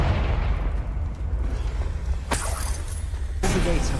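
Confringo blasting spell from Hogwarts Legacy explodes in a heavy, booming burst, followed by rumbling debris and two sharp, crackling impacts near the end.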